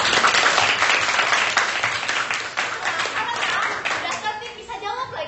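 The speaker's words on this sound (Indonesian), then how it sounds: "beri tepuk tangan untuk si paling tertib ini" A classroom full of people claps together in brisk, steady applause during a group game, close and lively, tapering off at the end.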